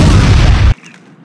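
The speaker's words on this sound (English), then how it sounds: "Time to bomb her into oblivion." A single loud, close airstrike explosion in the Heroes Online World video game, a heavy, deep boom that cuts off sharply into a faint tail.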